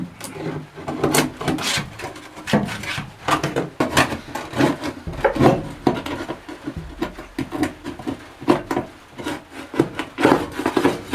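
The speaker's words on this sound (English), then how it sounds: "I'm going to just start sweeping this corner." A broom sweeps debris out of a corner of a camper van under conversion: continuous close scratchy brushing strokes, fairly loud and busy throughout, with no talking.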